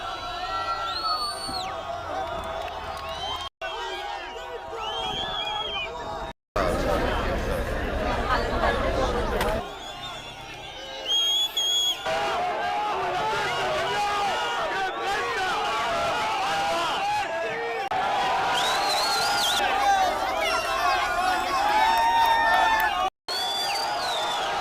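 Crowd noise from a recorded scene of people booing, shouting and jeering at Israeli hostages, a dense restless babble of many voices with loud bursts, cut by several abrupt edits.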